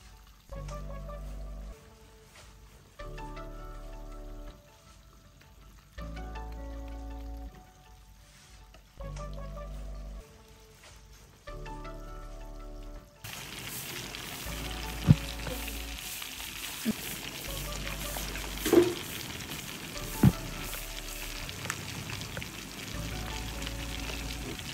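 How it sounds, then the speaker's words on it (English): Catfish pieces fry in hot oil with a steady crackling sizzle, quiet at first and then louder and fuller, with a few sharp pops and soft background music throughout. "just take it out of the oil and fry your fish till you're done frying all the pieces that you cut"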